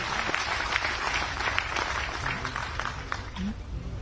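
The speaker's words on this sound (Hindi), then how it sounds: "मैं इस अवसर पर चाहूंगा कि हम सब लोग पुरजोर तालियां बजाकर संगीत के इन साधकों को अपनी श्रद्धा व्यक्त करें।" An audience claps loudly and continuously for classical musicians at the opening of the Tansen music festival in Gwalior, dense sustained applause filling the hall throughout.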